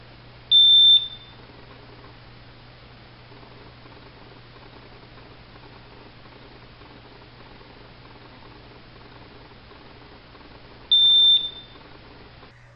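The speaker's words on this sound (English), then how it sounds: "the detector will run through a self-test of its alarm mode, which includes sound, light, and vibration" Two loud, sharp electronic beeps about ten seconds apart from a smoke alarm running its self-test, with a low steady hum and quiet background noise between them.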